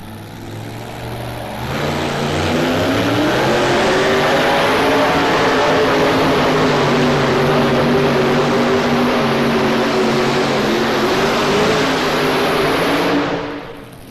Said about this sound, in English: The Good Vibration, James Kerr, Upper Sandusky, Ohio. Comes up just a little bit short. That last bit of charge right there. And just right up in a big low wheel stand